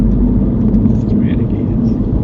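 A car during a driving lesson pulls away hard, its engine and road noise forming a steady, loud low drone heard from inside the cabin for the whole stretch.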